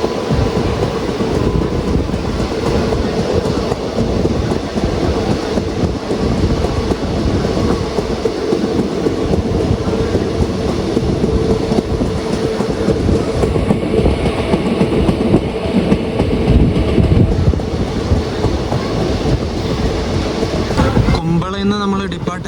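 A passenger train runs on Kerala's coastal line between Uppala and Kumbala railway station, a loud, steady rumble and rattle of rolling carriages throughout with faint clatter underneath.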